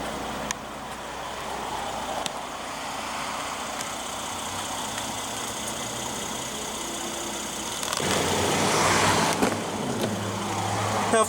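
A 2015 Mercedes-Benz ML400 with a 3.0 L twin-turbo V6 idles steadily at a moderate level, its low hum constant throughout, with a louder broadband rush swelling in near the end.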